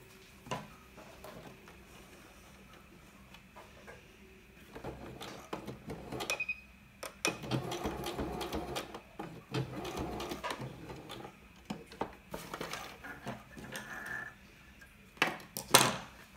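A sewing machine stitches a fabric face mask in short intermittent runs, quiet whirring bursts separated by pauses and light handling clicks, with no talk.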